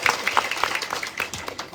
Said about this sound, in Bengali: এটা এর লাগে একটা হাততালি দিত না?